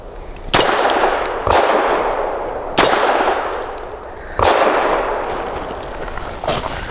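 Several gunshots from a Grand Power LP380 pistol at an outdoor range, loud sharp cracks spaced about a second apart with ringing decays between them, one fainter shot at the end.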